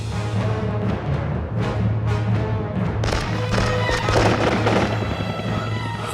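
Rapid cracks and pops burst repeatedly over a steady low rumble, growing denser partway through like a volley of shots.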